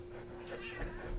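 A cat meows close by in a quiet room, a short soft call over a steady low hum with faint rustling beneath it.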